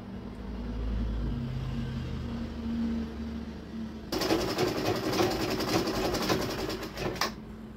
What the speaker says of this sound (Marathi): हे बघा, पूर्णपणे मी शिलाई मारून घेतलेली आहे.